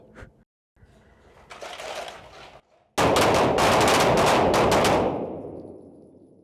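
Gunfire at a police academy range, fired from a kneeling position: a loud burst of rapid, closely spaced sharp reports that cut in suddenly after quieter rustling and shuffling, then fade out.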